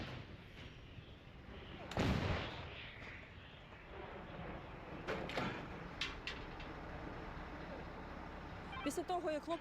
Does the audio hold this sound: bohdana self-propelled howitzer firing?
yes